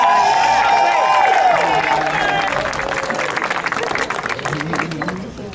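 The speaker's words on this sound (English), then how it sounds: "Give him a round of applause." Crowd applause at a political event for a newly elected Haitian American city council member in East Orange, a dense wash of clapping with voices and cheers mixed in, fading slightly toward the end.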